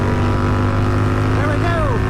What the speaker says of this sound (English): the V-twin always sounds mean.